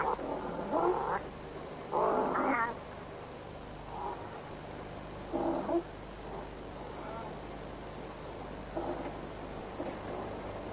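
European wildcats in Germany calling during courtship, with a female in heat: about half a dozen separate yowling cries at uneven intervals, moderately near, over a faint steady background hum.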